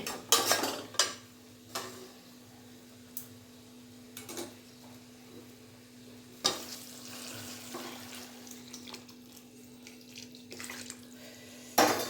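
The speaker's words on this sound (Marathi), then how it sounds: "आता ह्याच्यामध्ये आपण गरम पाणी ओतणार आहे" Hot water goes into a pan of vegetable curry for the Bhogi festival, with a soft watery splash and sizzle among scattered clinks of utensils against cookware, under a steady low hum.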